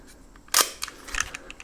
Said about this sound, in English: This is your shutter advance.